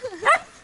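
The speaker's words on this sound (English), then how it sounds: "That dog." A village dog in an East African homestead gives a single short bark, close and fairly loud, lasting under a second.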